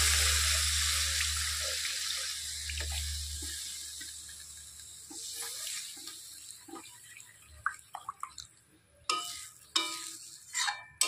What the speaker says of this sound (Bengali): এখন দিয়ে দিব পরিমাণ মতো জল